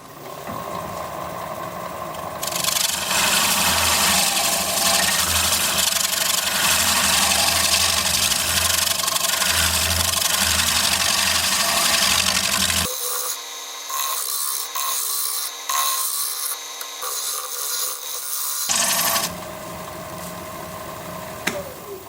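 Wood lathe turning a maple slab into a bowl, a steady motor hum with rough cutting and rubbing at the tool, loud and continuous, changing character midway as the cut lightens, then resuming the dense grinding texture.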